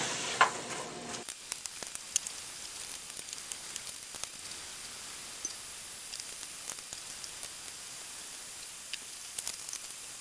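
Leeks soften in a pan with a low, even sizzle and hiss, with scattered small crackles and pops across the clip and a brief louder clatter at the very start; close but fairly quiet, no talking.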